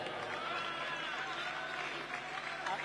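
Audience applause at a poetry recitation ceremony in a Delhi press club hall: steady, dense clapping from a crowd, moderately loud and continuous throughout, with no spoken voice over it.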